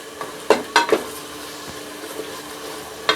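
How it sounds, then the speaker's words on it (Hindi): Ginger and garlic paste fries in oil with a tomato masala for achari chana and masoor dal, with a few sharp spoon-against-pan clinks and stirring scrapes over a soft, steady sizzle. "अब हम इसमें डाल देंगे 2 चम्मच अदरक और लहसुन के, इसको भी डालकर भून लेंगे अच्छी तरह।"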